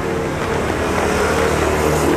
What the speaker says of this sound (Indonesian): ini kayaknya suara motornya, Bu